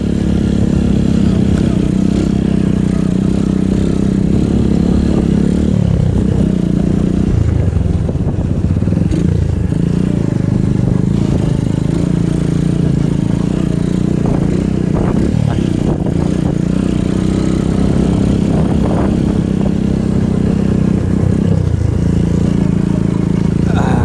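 A 2015 Honda XTC motorcycle engine drones continuously up close, with clattering and scraping jolts as it rides over a bumpy, uneven road beside the sea.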